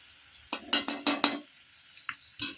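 Fried rice is stirred in a pan with a spatula, giving a quick run of five or six scraping clatters, then a few sparse scrapes against a faint sizzle, with no voices.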